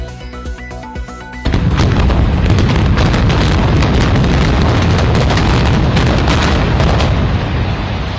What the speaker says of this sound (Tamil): அமெரிக்காவில் சூறாவளி தாக்குதலுக்குள்ளான 22 மாடி கட்டிடம் வெடிப்பு தகர்ப்பு.